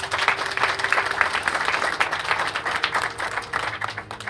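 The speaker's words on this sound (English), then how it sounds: "So I want to give you guys another applause for that." An audience at a building's grand opening claps steadily, a dense wash of many hands applauding at moderate distance without pause.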